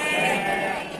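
A young ewe bleats at a livestock market selling sheep, one sustained close cry filling the whole second, loud and wavering, with faint crowd noise beneath.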